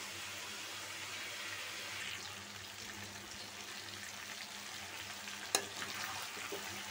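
Chicken pieces coated with cumin powder and garam masala fry in a pan, giving a soft continuous sizzle and bubbling hiss, with one sharp clink near the end.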